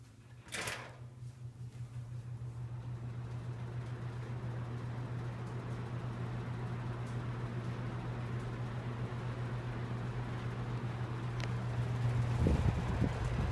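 Kmart and Robenson box fans run on low with a steady, quiet hum and a constant droning tone, plus a brief clack near the start and a slight rattle near the end.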